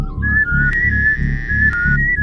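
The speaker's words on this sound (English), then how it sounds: "He looks so weird when he whistles." Abe, the character in the Oddworld: New 'n' Tasty video game, whistles one long, wavering tone, clear and loud above a steady rhythmic pulsing game background.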